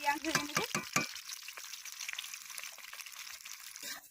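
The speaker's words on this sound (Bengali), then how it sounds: "এবার চাল ধুয়ে নেব" Raw rice grains being rinsed in water for coconut rice, with sloshing, stirring and swishing, louder at first and then settling into a steady watery rustle.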